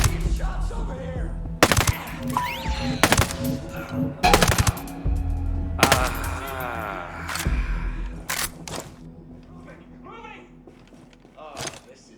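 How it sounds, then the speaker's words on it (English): Gunfire in the tactical shooter Ghost Recon Breakpoint, with several loud bursts of automatic fire and single shots spread across the scene, mixed with game effects and a speaking voice. "Shots over here!"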